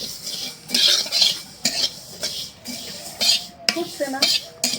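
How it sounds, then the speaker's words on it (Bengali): Black cumin seeds (kalojira) stirred in a pan over low heat, giving repeated scraping and light clinking strokes with a faint sizzle underneath, close and fairly loud. "কালো জিরা ভাজতে সময় লাগে না বেশি, কিন্তু কম জালে ভাজতে হয়।"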